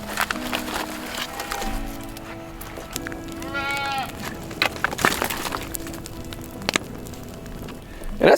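Goats in a pen beside a farm driveway give a single wavering bleat midway, set against a steady low background hum with scattered crackles and knocks.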